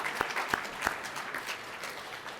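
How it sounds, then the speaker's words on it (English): Light round of applause from guests at an awards dinner, scattered claps with a few sharp ones standing out, moderately distant and fairly soft. "we should offer a round of applause for that"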